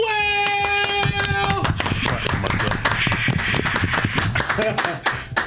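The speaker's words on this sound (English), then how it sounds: "I'm gonna work on that applause button so I can get it louder." An applause sound effect triggered from a button plays loudly and up close: dense, continuous clapping throughout, with a sustained tonal chime over the first second and a half, and voices faintly mixed in.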